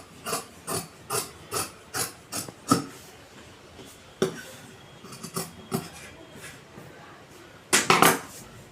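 Scissors cutting churidar fabric in a straight line: about six even, crisp snips in a steady rhythm, then scattered single cuts, and a final louder cluster of snipping, close up and quiet, with no voices.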